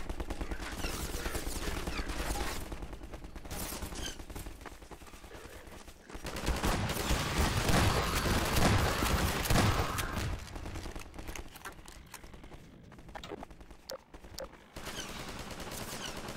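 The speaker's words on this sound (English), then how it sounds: "Gotta shut down that turret. Or whoever it is that's shooting." Sustained automatic turret fire in the game Half-Life 2, with dense rapid bursts that fill the clip, easing briefly and then returning louder before thinning into scattered shots near the end.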